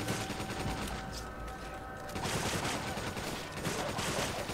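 Rapid gunfire in Resident Evil 5, a dense run of shots through most of the stretch that drops back briefly in the middle and then resumes just as loud.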